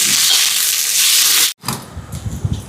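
Sliced onions, curry leaves and dried red chillies sauté in hot oil with a loud, close, steady sizzle. It cuts off abruptly, and quieter scraping and stirring follows.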